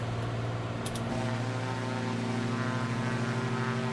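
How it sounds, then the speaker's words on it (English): A simulated propeller aircraft engine, a Just Flight Turbo Arrow in a flight simulator game, drones steadily with a constant, loud, even hum that holds at one pitch throughout. "I can hear an airplane. Sounds like you're close."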